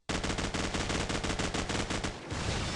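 Rapid automatic gunfire in Call of Duty 4, loud and continuous, with fast regular shots through most of the stretch and a short break near the end before firing resumes.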